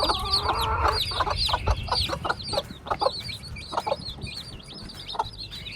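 Hens cluck repeatedly in a yard with their chicks, close and lively, with overlapping bursts of clucks and higher chirps.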